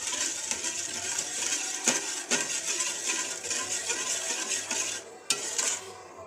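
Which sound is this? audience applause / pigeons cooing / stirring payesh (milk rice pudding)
stirring payesh (milk rice pudding)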